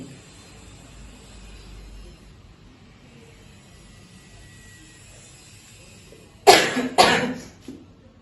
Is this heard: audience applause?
no